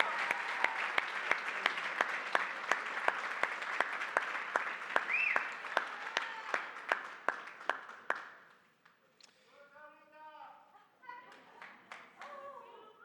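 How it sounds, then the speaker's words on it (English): A gala audience applauds, crisp individual claps standing out from the dense clapping for about eight seconds before it fades, after which children's voices and chatter follow. "One more round of applause."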